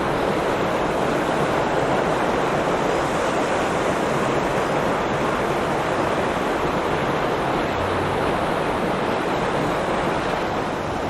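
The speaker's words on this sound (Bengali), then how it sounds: "ওয়াটারফলসে কিন্তু জল কিন্তু আছে, যদিও বর্ষার সময় যতটা জল থাকে অতটা জল নেই, কিন্তু জল আছে" Ban Jhakri waterfall near Gangtok, Sikkim, pours with a constant, even roar of rushing water, a dense steady hiss that fills the whole stretch with no voices over it.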